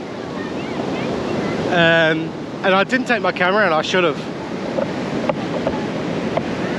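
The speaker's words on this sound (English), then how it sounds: "here comes the waves" Ocean waves break on the shore at Da Nang, Vietnam, as a continuous washing roar with some wind buffeting, while a person talks over it for a few seconds.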